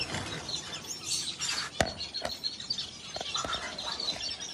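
A pair of green gold parrots calling, with sharp chirps and squawks over chatter from other birds, fairly near and with no talk.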